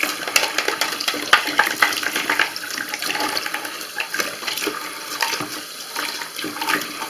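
Running water rinses a kitchen or bathroom sink trap being unclogged, a steady splashing flow with scattered clatter and scraping, close and moderately loud with no talk.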